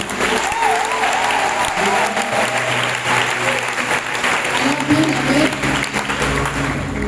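A church congregation breaks into sustained applause for Shepherd Francis during a seasonal prayer service, the clapping dense and steady throughout, with scattered voices rising under it.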